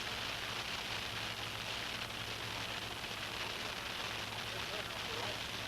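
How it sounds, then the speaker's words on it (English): Heavy rain and hail pour down during a thunderstorm at a ranch, a dense, steady roaring hiss that stays constant throughout at a fairly faint level, with a voice speaking over it. "As you can see, there was a lot of rain and hail coming down"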